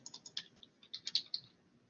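Typing on a computer keyboard comes across quietly and close, about a dozen light key clicks in a quick, uneven rhythm with nobody talking.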